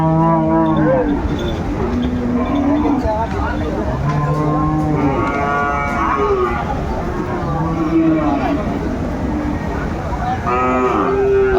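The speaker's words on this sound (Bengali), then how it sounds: "আর আমরা দেখছিলাম এখানে চমৎকার একটি ষাঁড়" A bull at a busy cattle market in Feni lets out several loud, drawn-out moos in turn, each a deep rising and falling bellow, over a constant murmur of crowd chatter and nearby voices.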